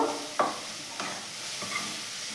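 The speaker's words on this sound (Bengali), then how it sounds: "ধনে পাতা কুচিগুলো দিয়ে দিচ্ছি ভালো করে এর সাথে মিশিয়ে নেব" Tomato, onion, salt and chopped coriander leaves are stirred in a pan, three distinct scraping strokes over a soft sizzle, close and without speech.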